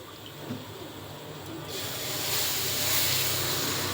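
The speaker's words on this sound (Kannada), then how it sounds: "ಹೆಂಚು ಕಾಯಿದೆ ಇವಾಗ ನಾನು ದೋಸೆ ಹಾಕ್ತೀನಿ" Instant ragi dosa batter with drumstick leaves and carrot hits a hot griddle; a soft hiss jumps into a louder, steady, close sizzle about halfway through and keeps building.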